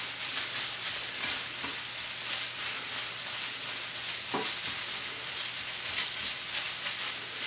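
Sausage frying and browning in a pan for gravy, a steady close hiss and crackle with occasional stirring scrapes and a faint low hum underneath.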